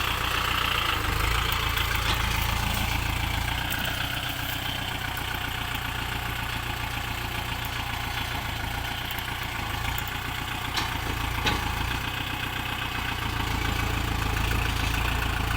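A Kubota L5018 tractor, stuck in mud, idles with a loud, steady low rumble and a faintly knocking throb that runs unbroken throughout, with no talking.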